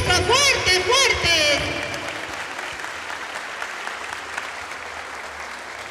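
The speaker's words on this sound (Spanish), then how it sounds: "¡Vengan los aplausos!" A public audience at a municipal candidates' event in Morropón claps loudly while an announcer's voice rings out over the first seconds, then the applause carries on alone as a steady, slightly fading wash.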